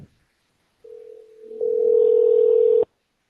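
A telephone dial tone sounds while a call is placed: a softer steady tone, then a louder sustained tone lasting over a second before cutting off abruptly, heard alone.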